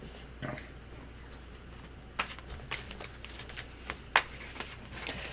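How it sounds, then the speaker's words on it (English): Tarot cards are shuffled, a quiet run of soft riffling and several sharper slaps and flicks, close by and with no talk. "Okay, so I'm shuffling, you're shuffling, and you will cut, Mr. O."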